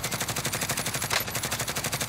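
Automatic gun in Warzone firing a steady rapid stream of close, loud shots, evenly spaced for about two seconds with one sharper crack near the middle.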